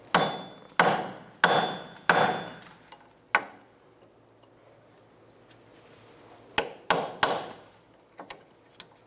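Brass punch struck with a hammer against a rear brake caliper on a 2008-13 Mazda 3: five sharp metallic blows in a steady rhythm, a pause, then a few more hits, close and clear.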